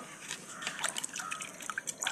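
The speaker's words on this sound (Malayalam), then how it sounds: "കുറച്ച് വെള്ളം ഒഴിച്ചെടുത്ത്" Water poured a little at a time onto a newly planted capsicum seedling, soft irregular trickles and drips, faint and close.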